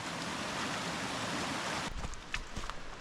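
A highland creek in Tasmania's Western Tiers runs in a steady broadband wash of flowing water, fairly close and continuous, with a few low knocks and splashes near the end.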